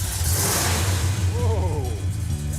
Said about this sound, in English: You can't mistake a big block engine lope.